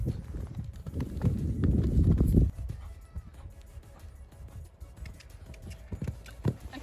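Horse hooves cantering during an at-home jumping exercise, with rhythmic thuds and clip-clops that come heaviest early on, then scattered lighter hoofbeats and a few sharp knocks, moderately close, with no talk.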